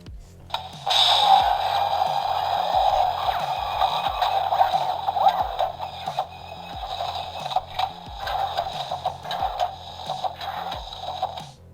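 Repetitive mechanical clunking and whirring steps from a Hiya Toys 1/18 scale ED-209 Robocop toy's walking sound effect, a steady rhythmic motor-driven walking sound, moderately loud and continuous throughout.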